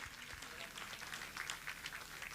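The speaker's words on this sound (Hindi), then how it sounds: "आप लोग की तालियों में कमी है, जोरदार तालियां बजा दीजिए" Scattered applause from a crowd, a steady patter of many hands clapping at moderate loudness with a faint roomy hum underneath.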